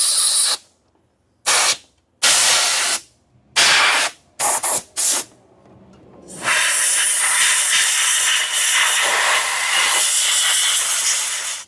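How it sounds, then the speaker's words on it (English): Spray lubricant hisses in several short bursts onto the engine parts of an old 1989 Chevy OBS truck, then in one long continuous spray, close and sharp. "Just kind of lubing everything down since it's been sitting a while"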